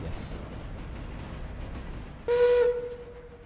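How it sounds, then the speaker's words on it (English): A steam locomotive whistle in the Railroader train game sounds once, a steady tonal blast with rich harmonics starting suddenly partway through and holding to the end, heard under and after people chatting. "Did you change the whistle?"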